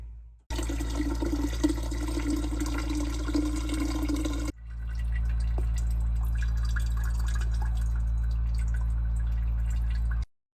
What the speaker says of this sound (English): Then we'll open this up and drain it.